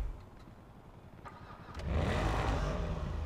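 A Ford Raptor pickup's engine, quiet idle at first, then a sudden swell into a loud, sustained roar from about two seconds on, heard close with no talking.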